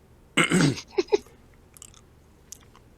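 A jelly bean is chewed close to the microphone: one loud crunching bite followed by a couple of softer wet chews, then near silence with faint mouth sounds.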